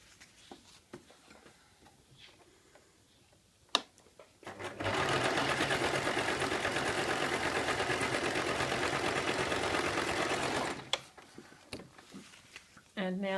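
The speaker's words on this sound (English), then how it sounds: "now what I'll do is sew the two edges together" A sewing machine stitches together the bound edges of a circle skirt, running in one loud, steady, rapid burst of about six seconds between quieter stretches of handling clicks and light shuffling.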